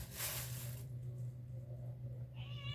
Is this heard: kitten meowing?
yes